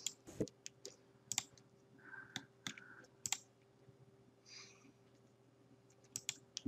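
A computer mouse clicks on several videos in turn. The clicks are sharp, close and scattered, sometimes in quick pairs, over a quiet background hum with short soft rustles between them.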